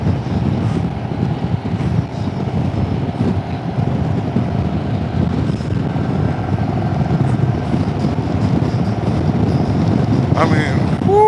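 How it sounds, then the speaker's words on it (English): A Harley-Davidson with 4DXtreme slip-on exhaust pipes riding on the road, a deep rumbling exhaust mixed with heavy wind rush, steady and continuous with no clear speech. "Sounds so good, it's so deep and throaty,"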